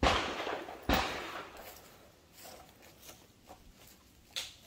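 Two sharp 9mm handgun reports crack out at an outdoor range, the first at the very start and another just under a second later, with a fainter pop near the end amid quiet background.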